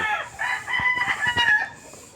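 A rooster crows loudly and close among chickens in a backyard farm, a drawn-out call with a few clucks underneath.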